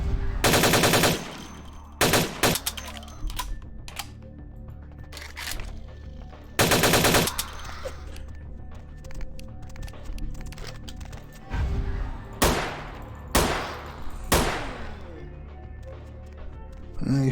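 Gunfire in Vampire the Masquerade Bloodlines comes in loud automatic bursts and single shots, scattered over quieter stretches of game sound with brief gaps between volleys.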